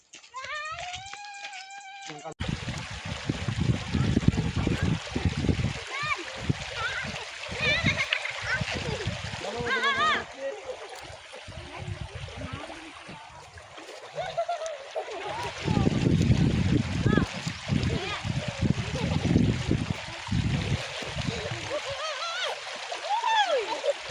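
People splashing while swimming in water, with continuous loud splashing and sloshing across the whole stretch, under excited voices of children and adults chattering and calling out nearby.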